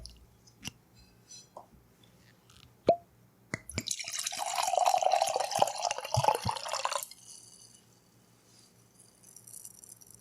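Sake poured into a glass during a tasting: a few soft knocks, then a close, bright gurgling pour lasting a few seconds before trailing off into quiet.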